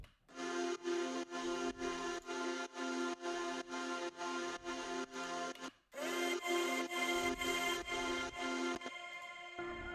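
A vocal texture group in a house remix pulses in rhythmic, chopped bursts on each beat, breaks briefly halfway, then resumes with brighter, fuller layers; quiet overall with no speech.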